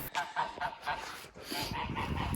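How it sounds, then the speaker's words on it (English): A goose on the Wairarapa coast, New Zealand, honks repeatedly in quick, harsh bursts, fairly close, with a hissing, agitated quality. "This goose wants to fight."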